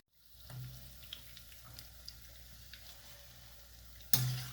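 Chicken bread starters fry gently over low heat in a pan, giving a faint, steady sizzle with a few soft utensil clicks and a brief louder clatter near the end.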